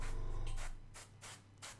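An airbrush sprays paint onto a Space Marine miniature in short, close hissing bursts, one longer burst followed by three brief puffs.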